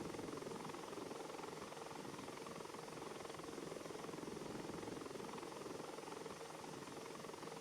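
A Bell 412 helicopter holds a hover, its steady, dense rotor and turbine roar filling the whole stretch at a constant loud level without any voices.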